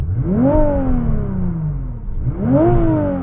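A Nissan GTR engine revved twice while stationary, each rev rising sharply in pitch and then falling slowly back toward idle, loud and close with a short pause between the two.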